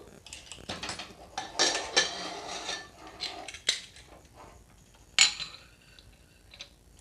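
A pressure cooker lid is opened after the cooker of tomato bath has cooled: a series of close metallic clanks, scrapes and rattles, with a sharp clatter near the end and quiet pauses between.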